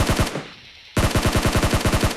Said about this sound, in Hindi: मुझ पे गोली चला रहा है।